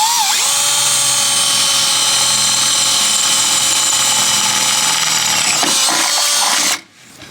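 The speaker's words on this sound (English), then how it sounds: "use the drill bit to go through the bracket" A power drill whines at a steady high pitch for several seconds as the bit grinds through a metal bracket, then cuts off abruptly.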